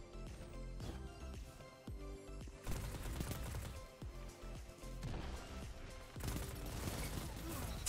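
A Galliard-42 auto rifle fires in Destiny 2 in rapid sustained bursts, loud and close, broken by brief pauses and mixed with other gunfire and in-game crashes.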